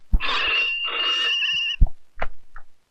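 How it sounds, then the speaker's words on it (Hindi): Telephone ringing in a comedy courtroom sketch: a steady electronic ringing tone for about two seconds, pausing briefly and repeating, followed by a few short knocks and clicks. "फोन उठा लो।"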